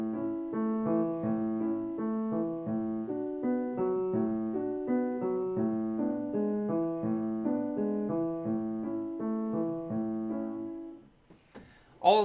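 Piano plays a steady sixteenth-note accompaniment passed smoothly between the hands, even and legato at moderate volume, alone until a brief noise at the end.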